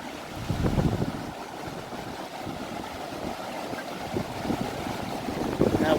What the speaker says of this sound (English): That water is really running hard.